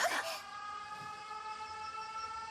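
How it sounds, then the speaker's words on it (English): Air raid siren in the video game 13 Sentinels: Aegis Rim, a sustained wailing tone with steady harmonics heard at moderate distance after a brief burst of noise at the start, no speech. "The sirens. This is bad."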